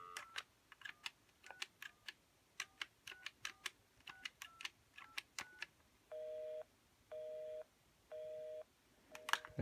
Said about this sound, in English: I'll dial this number and it'll be busy.